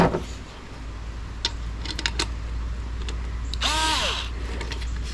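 An electric power tool drives a bolt on a kayak fish finder mount in a short whirring burst near the end, after scattered clicks and taps of handling, against steady background hiss.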